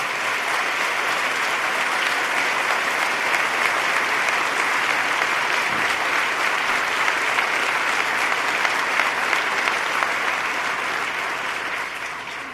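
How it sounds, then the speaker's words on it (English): A large audience at a 2014 State of the State address gives sustained applause, a thick, unbroken wash of clapping that stays loud and even for over ten seconds before easing slightly at the close. "Let's give Ben Lieberman a round of applause."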